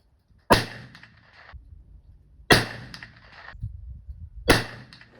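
Three loud, sharp muzzleloader shots about two seconds apart, each firing a Hornady XTP 240-grain bullet over a 150-grain charge of Triple Seven pellets, with a brief ringing tail after every blast and no talk between them.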